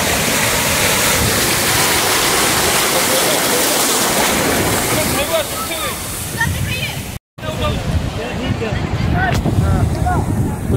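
Sea waves rush onto a beach in Odisha with a loud, constant roar and churning wash that fills the whole span, mixed with wind buffeting the microphone. Voices are mostly buried beneath it.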